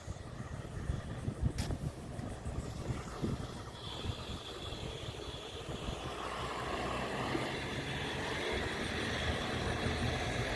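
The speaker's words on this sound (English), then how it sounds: "We can see the cars coming off the ferry boat" Cars rolling off a docked ferry boat onto a sandy coastal road, a steady run of engines and tyre noise passing close by, with one sharp click early on and no talk.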